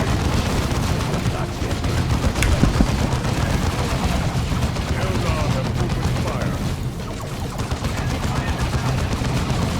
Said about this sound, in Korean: 총 쏘는 게 있구나